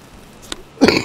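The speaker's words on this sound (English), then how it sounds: "I'm sorry, I coughed." One short, close cough, like a throat being cleared, breaks a near-silent background.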